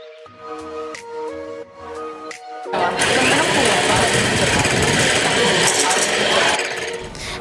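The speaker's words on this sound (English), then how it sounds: "the next thing that we're gonna use is hand mixer" Hand mixer whipping egg whites, with a loud, steady electric whir that starts partway through after a quieter stretch of clinks and kitchen sounds, heard close up.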